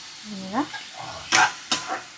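Tomato and spices sautéing in oil in a pan, a soft steady sizzle with brief louder bursts of stirring and scraping scattered through, heard close and alone.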